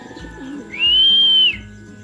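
Pigeons at a loft in the Philippines, with a soft low cooing murmur and a single sustained whistle-like call rising over it for under a second.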